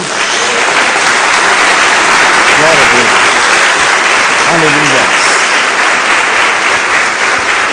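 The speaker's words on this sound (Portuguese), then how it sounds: "Dê uma salva de palmas a Jesus" A church congregation claps for Jesus in a loud, dense, continuous round, while a preacher's voice calls out praise over the clapping.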